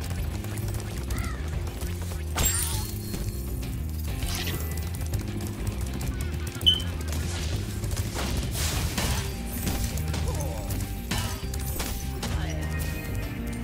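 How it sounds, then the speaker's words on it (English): Fire-breath attack from Spyro the Dragon in Spyro Reignited on PS4, a dense burst of game effects layered over steady background music with scattered crashes and a sharp hit midway. "I'm just gonna like charge at him and then fire breathe bright fire breath more."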